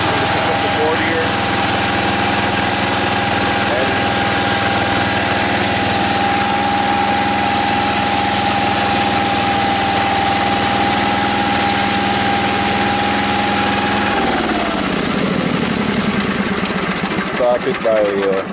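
A 1965 Sears Suburban 10 garden tractor with a 16 horsepower engine idles loudly and steadily close up, a constant buzzing drone that shifts and roughens near the end.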